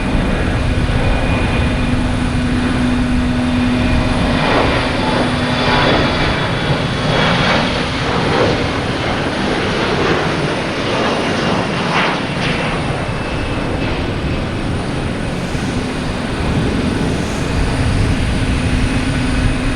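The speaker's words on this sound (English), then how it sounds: "United Airlines, a 737 MAX 9 coming in from Dulles" A United Airlines Boeing 737 MAX 9 comes in to land, its engines giving a loud, steady roar with a sustained whine running through it, nearby and unbroken for the whole stretch.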